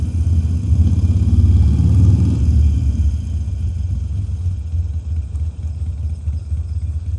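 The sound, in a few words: motorcycle engine at low revs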